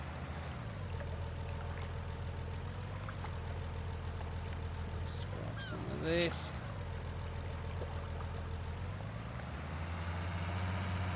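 A tractor engine in Farming Simulator 19 hums steadily at a low idle throughout, shifting pitch briefly midway, with someone talking over it.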